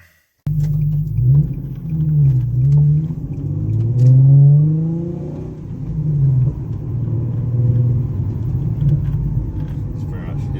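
A cold car engine rumbles steadily while driving on a road, a low droning tone that swells as it revs gently mid-way and then settles, loud and close throughout.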